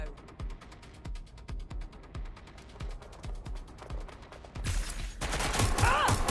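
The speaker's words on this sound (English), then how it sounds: "Shots fired!" Rapid automatic gunfire rattles in Watch Dogs Legion, a fast run of close, punchy shots that swells into a louder, chaotic burst of noise near the end.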